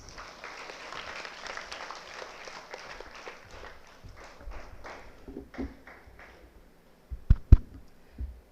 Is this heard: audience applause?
yes